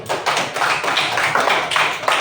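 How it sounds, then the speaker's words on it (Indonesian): A group claps hands in an even, rhythmic pattern of short bursts, like a classroom applauding together, fairly close and steady with no speech over it. "Terima kasih, tepuk tangan."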